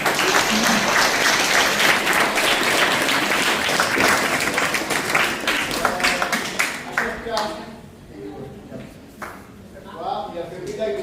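An audience at a boxing club's general assembly applauds a boxer, dense clapping for about seven seconds that thins and fades, followed by a few scattered claps with voices talking over them.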